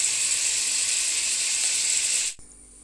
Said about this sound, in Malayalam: ഈ സവാള ഫ്രൈ ആവുന്നതിൻ്റെ കൂടെ തന്നെ വൃത്തിയാക്കി വെച്ച ചെമ്മീൻ ഞങ്ങൾക്ക് ഇതിട്ട് കൊടുക്കാം